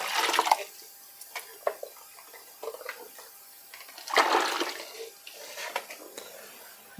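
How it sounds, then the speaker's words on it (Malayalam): Water pours into a dish while making rubber sheets, irregular splashing and trickling bursts, fairly faint and close, with quieter gaps between pours. "ഇതിലേക്ക് രണ്ട് ലിറ്റർ വെള്ളമാണ് ഞാൻ ഒഴിക്കുന്നത്"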